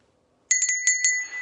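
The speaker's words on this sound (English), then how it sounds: "Got this bell the other day at the Goodwill." A small bell picked up secondhand at a Goodwill store rings in several quick, bright strikes with clear sustained tones, close and alone after a moment of silence, the last ring fading out slowly.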